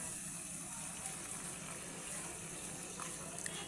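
Water is poured into a pot of chicken curry, a steady close gush of running liquid over a low background hum.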